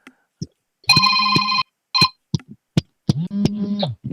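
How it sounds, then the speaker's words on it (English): A phone rings with an incoming call, playing a loud, clear electronic ringtone in repeated bright tonal bursts and short chirps that stop and start, close by with no talking over it. "somebody just calling your phone"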